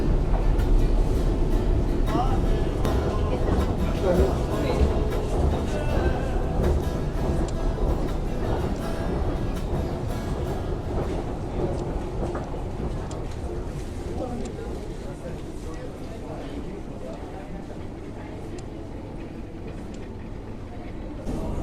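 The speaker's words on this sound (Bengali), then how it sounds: "সো ভিউয়ার্স দেখতে দেখতেই মেট্রো চলে আসছে আপনারা দেখতেই পাচ্ছেন" A metro train pulls into Vienna Hauptbahnhof, a busy Austrian station, its steady low rumble filling the platform throughout and easing slightly toward the end, with a voice talking over it.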